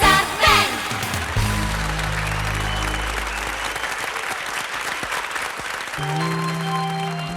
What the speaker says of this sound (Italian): Quanti applausi!